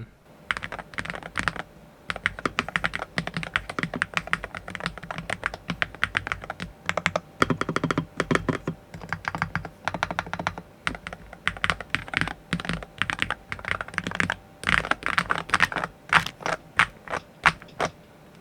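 Steady typing on an Epomaker magnetic-switch 75% keyboard, rapid clicky keystrokes in uneven bursts with brief pauses, close and prominent, no talking.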